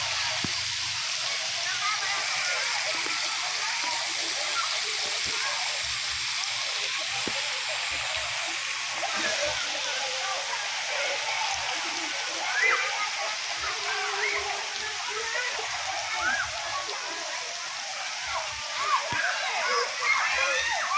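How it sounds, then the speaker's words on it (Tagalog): Water pours and splashes steadily into a pool from a tipping bucket, a broad continuous rush with scattered splatters, with voices mixed in. "May bucket na tumatapo ng tubig."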